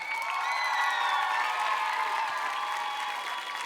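A studio audience at the Ukrainian X Factor talent show applauds a contestant, a steady wash of clapping with some cheering and whoops, held at a moderate level throughout.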